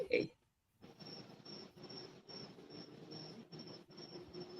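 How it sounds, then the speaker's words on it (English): Crickets chirp outdoors in steady repeated trilling bursts, close and fairly loud, following a brief moment of voice at the start. "Is that me or do you guys hear crickets?"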